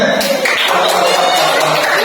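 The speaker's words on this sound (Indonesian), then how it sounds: "Jadi tepuk tangan buat Abi dan kawan-kawan." Students in a classroom clap for a group, a short, steady, close burst of applause with voices mixed in.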